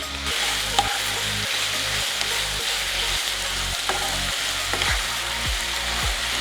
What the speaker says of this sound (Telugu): పాలకూర ఇట్లా మీడియం ఫ్లేమ్ మీద వేయిస్తూ ఇట్లా చేసినట్టయితే వెంటనే మగ్గిపోతుంది